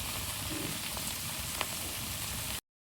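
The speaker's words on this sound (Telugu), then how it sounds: "దీన్ని మొత్తం మంచిగా కలిపి దీన్ని నూనెలో మంచిగా వేగనిద్దాం" Chopped coriander leaves frying in hot oil, a steady close sizzle throughout with faint stirring clicks and no talking, cut off sharply at the end.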